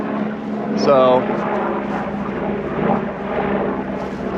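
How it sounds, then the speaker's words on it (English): A helicopter flies overhead above an open rural area in Maine during fall, a steady distant whirring drone running beneath a man's brief speech. "got a helicopter checking on us"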